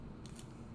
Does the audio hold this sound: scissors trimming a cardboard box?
yes